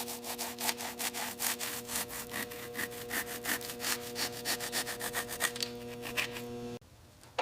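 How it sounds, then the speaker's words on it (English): Brake caliper sliders on a 1960s Mini Cooper S are scrubbed clean in quick back-and-forth strokes, a rhythmic close-up rasping over a steady mechanical hum, ending abruptly. "Clean the sliders."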